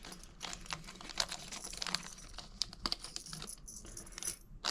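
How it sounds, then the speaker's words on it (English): Small fishing kit items, hooks and lines, dumped out of a tin, giving a quiet scatter of light metallic clicks, taps and rattles in quick irregular bursts. "I'm just gonna dump all this out."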